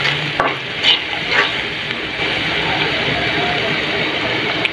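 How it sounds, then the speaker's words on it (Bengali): Cumin powder and spices are stirred through hot oil in a pan, making a loud, steady sizzle close up with a few scraping stirs near the start. "জিরের গুঁড়ো, তারপরে আধা টেবিল চামচ, এগুলো দিয়েছে ভালো করে এভাবে তেলের মধ্যে নেড়ে ছেড়ে নেবে"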